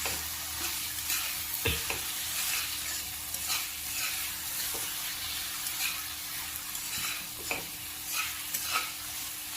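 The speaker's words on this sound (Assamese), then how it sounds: "এয়া মছলাখিনিও ভাজি ৰেডি হৈ গৈছে।" Spice paste for a rohu fish curry sizzles quietly in a pan, a soft continuous hiss marked by occasional clinks and scrapes of stirring.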